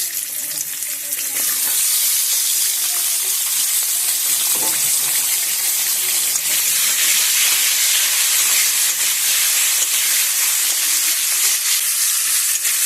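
Potatoes dropped into hot oil alongside ilish fish in a pan, an intense, loud, steady hissing sizzle with steam, constant and close throughout, with a faint voice briefly underneath.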